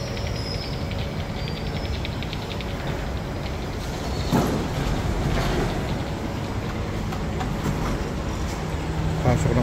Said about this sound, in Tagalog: Ito na, parating na yung train na nasakyan ko.